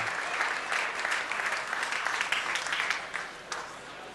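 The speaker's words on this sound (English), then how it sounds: "Big round of applause for Carbon, Puckett, Dmaq, Nexy." Sustained applause from an esports tournament audience at a Halo championship final in Las Vegas, dense clapping that carries on throughout at a steady, fairly loud level.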